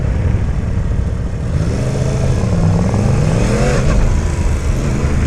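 A 2017 Yamaha FZ-10 motorcycle engine drones steadily while riding at light throttle, a loud continuous hum with rising and falling tonal sweeps over heavy wind rumble.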